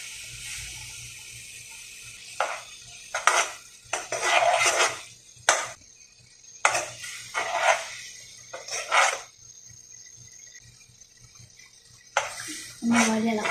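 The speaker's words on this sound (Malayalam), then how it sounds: "നന്നായിട്ട് ഇളക്കാം." Food stirred in a cooking pot in irregular bursts of scraping and clattering against the metal, loud and close, separated by quieter pauses over several seconds.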